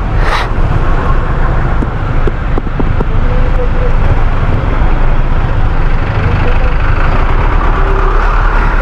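Heavy road traffic heard from a moving motorcycle: a loud, steady broadband roar of engines and wind with passing vehicles, continuous throughout, with speech mixed in.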